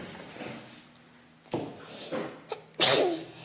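A sneeze in a home setting near a toddler, a short in-breath followed by one sharp, close explosive burst at the end, with faint breathing and small background sounds beforehand.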